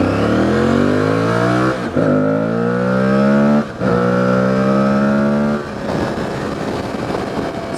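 Aprilia Tuareg 660 motorcycle engine revving loudly and close, rising in pitch through three separate climbs with brief drops between them, then settling into a rough, uneven rumble at the end, with no talking.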